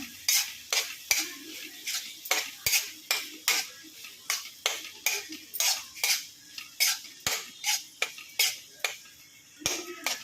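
Grated coconut being stirred into a spicy ivy gourd stir-fry, a spoon scraping and clinking against the pan in a steady rhythm of about twenty strokes over a faint sizzle, close and fairly quiet.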